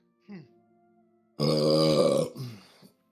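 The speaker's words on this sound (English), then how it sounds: "That was a burp." A loud, drawn-out human burp rumbles close to the mic for about a second, preceded by a short vocal grunt and followed by a brief groan-like tail.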